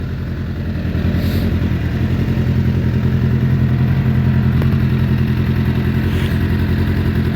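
A Suzuki Bandit 600 motorcycle idles steadily with no choke, its engine note slightly spluttery and uneven, close and loud with no talking throughout.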